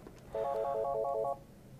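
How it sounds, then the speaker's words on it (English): A Polycom IP500/600-series VoIP desk phone sounds its second-incoming-call alert, a single short warbling electronic beep pattern lasting about a second, clear against quiet background. "a second call comes in, you will hear a beep in your ear"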